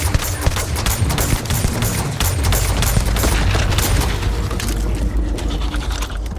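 Sustained rapid gunfire from a player's weapon in Starfield, loud and continuous bursts against hostile alien creatures, with a dense crackling wash throughout and no speech.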